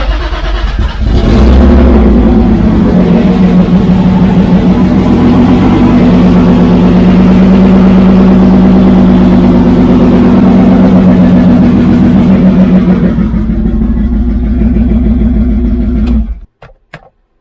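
A BMW E36 engine with a misfire runs close and loud for about fifteen seconds, an uneven throbbing idle with a faint stumble in its rhythm, then cuts off abruptly.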